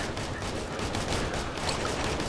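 Sustained gunfire in an infantry firefight in the war game Operation Flashpoint: Red River, a dense continuous rattle of rifle and machine-gun bursts filling the whole stretch with no break, no voices over it.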